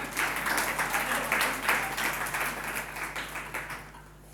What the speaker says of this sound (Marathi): टाळ्या तर हव्या कमीत कमी याच्याकरता.